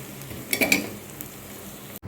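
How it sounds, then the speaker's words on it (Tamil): Pre-cooked taro root pieces frying in oil, with a brief burst of stirring and utensil clinks over a quiet, low sizzle. "ஏற்கனவே வேக வச்சது தான், அதனால் ஃப்ரை மட்டும் பண்ணுறோம்"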